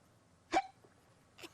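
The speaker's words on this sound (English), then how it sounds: "Abney had caught the hiccups." A cartoon character hiccups twice, a loud hic followed about a second later by a softer one, each short and sharp with quiet in between.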